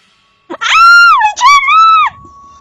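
A woman screams in terror, two long, loud, piercing cries close by with a brief break between them, set against silence.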